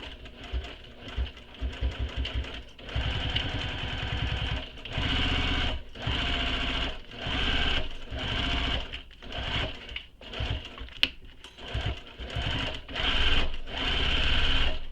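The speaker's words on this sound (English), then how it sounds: "you're just going to sew all the way around within the seam allowance" A sewing machine stitches a backpack's lining and exterior together around the seam allowance, running in bursts of rapid mechanical whirring separated by short pauses, close and clear with no talking.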